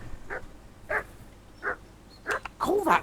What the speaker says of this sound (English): el perro está ladrando mucho